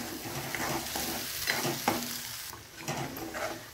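Garlic fries in hot oil in a pan of Khandeshi dal methi bhaji while being stirred, giving a steady sizzle broken by scraping strokes of the spoon, close and continuous.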